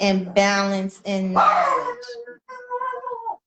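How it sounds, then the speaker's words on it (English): A dog whimpers and whines in short high, wavering cries, heard near and fairly loud right after a person speaks indoors. "My apologies. That's my dog."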